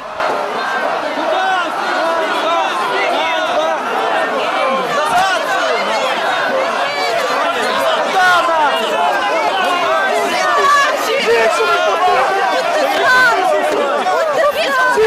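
A crowd of protesters jostles with police at a rally, a dense, steady roar of many voices, shouts and shuffling that stays loud and close throughout.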